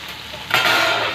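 Chicken liver frying in a pan, a steady close sizzle that swells louder halfway through as the pieces are stirred, with no voices.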